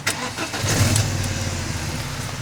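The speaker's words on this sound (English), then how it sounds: "So let me turn on the engine and you guys can see it better." A car engine with a blown head gasket cranks briefly and catches, then settles into a steady, close idle with no talking.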